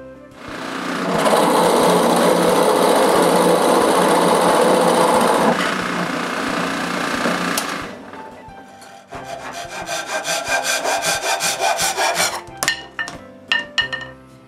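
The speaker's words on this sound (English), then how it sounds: "Then I drill a hole on the top block for the central post." A power drill whines loudly as it bores a hole into a wooden block, then a series of shorter, buzzing drilling bursts with brief pauses.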